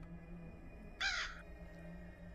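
A single crow caw rings out once in the horror video game Granny, a short harsh call over a quiet, humming ambient background.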